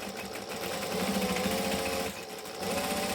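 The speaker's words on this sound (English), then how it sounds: "So we're going to do a couple of stitches forward and a couple back." Close, steady whir of a sewing machine running forward stitches on a Hippie Van bag, with a brief pause and change of pace near the end as it switches to back stitching.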